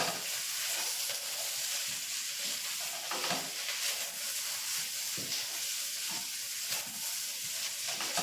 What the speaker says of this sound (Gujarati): બાફેલા બટેકા છે જે મેં બાફી અને છાલને ઉખાડી અને સમારી લીધા છે તે એડ કરીશ અને બરાબર મિક્સ કરી લેશું